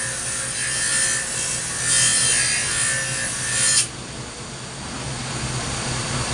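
A hand saw cutting through wood, with steady back-and-forth rasping strokes that run loud and continuous for about four seconds before stopping, leaving faint background noise.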